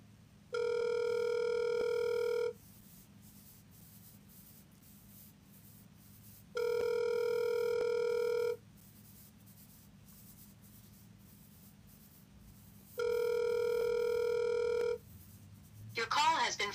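A telephone call rings back three times with long, evenly spaced tones separated by quiet gaps before going to voicemail, followed by a brief rustle at the end.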